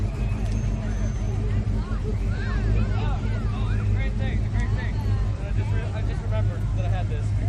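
A blue Chevrolet rolls past in a Long Beach parade, its engine a steady low rumble under loud crowd chatter and wind buffeting the microphone.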